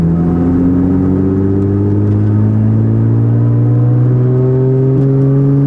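A supercharged Audi S4 accelerates hard up a freeway entrance ramp, engine drone and supercharger whine climbing smoothly in pitch, loud and close from inside the car, with no talk.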